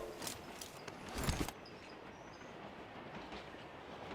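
A train in a mobile video game rumbles and clatters along the tracks at moderate distance, the clacking fading after a moment into a steady low hum.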